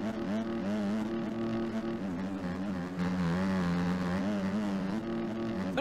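Motocross bike engine in the MX Bikes racing game on the Lommel track, a loud continuous buzzing whine that rises and dips in pitch as the throttle rises and falls, with no talk over it.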